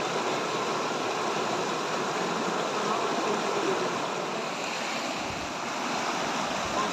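Strong water current rushing through a fishing net in a rain-swollen stream or channel, a dense, continuous close roar of flowing water with no talk.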